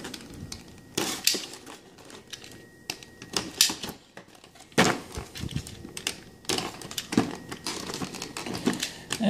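Tape is peeled and torn off plastic blister packaging in irregular bursts of crackly ripping and crinkling close up, separated by quieter handling noise, with no speech.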